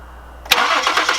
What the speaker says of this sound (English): or crank the vehicle, see if it's gonna start.